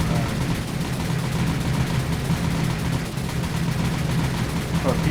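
Ship guns blaze away at attacking planes in the naval video game War on the Sea, a steady dense rattle of rapid gunfire over engine drone, with a voice talking over it.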